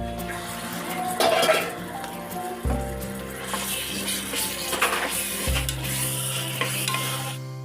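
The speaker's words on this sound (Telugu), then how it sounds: "తర్వాత 2 టేబుల్ స్పూన్ గార్లిక్ పేస్ట్ వేసుకుందాం" Garlic paste frying in a pan with curry leaves for chicken curry, a close sizzle broken by repeated spoon scrapes and clinks against the pan over several seconds.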